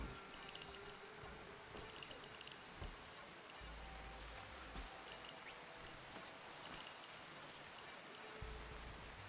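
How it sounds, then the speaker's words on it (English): Soft, steady in-game rain patters throughout, with occasional faint drips and taps; low and even, no voices. "Oh, it's raining."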